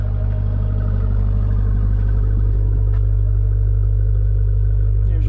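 Steady, loud low engine rumble from the dual exhaust of a 2018 Jeep Grand Cherokee Trackhawk with a deep, constant drone throughout and no clear revving.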